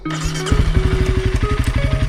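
A dual-sport motorcycle rides along a forest track, its engine close and loud with a steady, rapid pulsing beat that firms up after a brief softer start.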